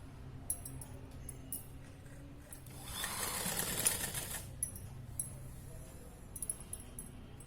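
A sewing machine stitches a narrow folded border strip for a child's nine-yard saree, its rapid mechanical whirr swelling loudest in the middle of the stretch with light clicks before and after, no voices.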